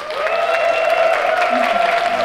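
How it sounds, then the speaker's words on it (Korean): An audience at a small theatre concert applauds the session musicians: dense, loud, continuous clapping with a sustained sung or keyboard tone ringing through it and no talk. "우리 세션 분들께 박수 한"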